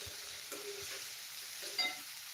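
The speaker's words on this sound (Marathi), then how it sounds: "आता कांदा छान गुलाबी रंगावर परतून घ्यायचा आहे" Onion frying in a pan on medium heat until soft and pinkish: a faint, steady sizzle with a few soft stirring scrapes and one small clink. No one talks.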